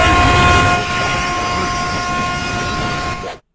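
A train rumbles loudly past at close range, a steady roar with tonal whine and rattling, continuing for several seconds before cutting off suddenly.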